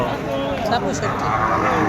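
A native Bengali cow moos loudly and close, a low, drawn-out call that fills the whole moment.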